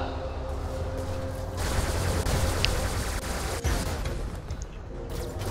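Robot weapons firing nonstop in the War Robots video game, a dense barrage of rapid gunfire and blasts with a few sharper hits, while someone talks over it.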